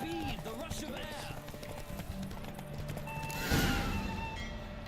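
Roach, a horse in The Witcher 3, gallops in a race with rapid hoof clip-clops and a brief whinny, under voices and game sound, swelling into a louder rush near the end.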